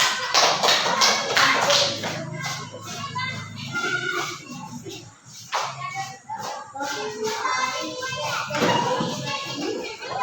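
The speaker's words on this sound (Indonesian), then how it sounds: "Tepuk tangan dulu untuk kelompok Bunga Mawar" In a classroom group activity, children clap for the Bunga Mawar group: a burst of quick, close hand claps at the start, then lively children's chatter and voices with occasional taps and claps.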